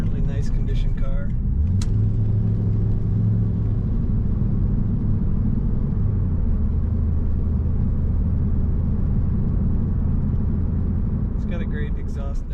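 A 1999 Pontiac Firebird Trans Am 30th Anniversary coupe idles with a deep, steady engine and exhaust rumble, continuous and close, holding a constant low drone with a slight shift in tone partway through.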